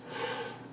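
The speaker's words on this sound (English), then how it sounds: "Yawns always happen at the worst possible time." A single short yawn, a breathy rising and falling exhalation lasting under a second, close to the microphone, with no talking over it.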